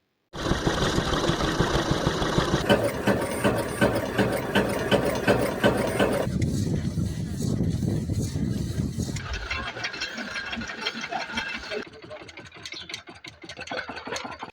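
Several homemade Stirling engines run in turn, each a steady close mechanical chugging with rapid rhythmic ticking, the tone and pace changing abruptly between machines.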